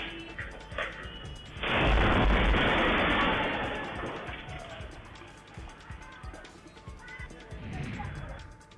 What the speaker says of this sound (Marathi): पुण्यात बीटी कवडे रोडवर गॅसचा भीषण स्फोट झालाय।